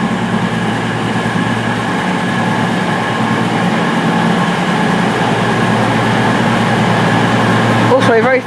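A Class 220 diesel unit pulls out of Paignton station and gathers speed, its engine drone and wheel rumble continuous and close, with a brief clatter near the end.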